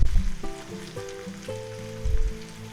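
Pre-cooked roast beef pieces sizzle steadily as they warm in a hot pan for a roast beef sub with peppers and onions. The frying is close and loud, and a few soft clanks of a utensil can be heard.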